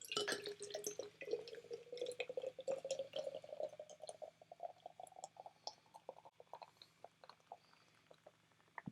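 Guinness Draught stout poured quickly from a can into a glass gives a steady trickling, splashing flow, fairly quiet and close, with small drips and fizz continuing as the stream tapers off.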